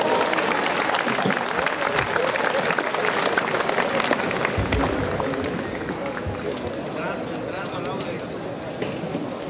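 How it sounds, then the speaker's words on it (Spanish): A crowd at a birthday gathering applauds loudly and continuously, the dense clapping filling the whole stretch and easing slightly toward the end, with voices mixed in. "Venga, fuerte el aplauso."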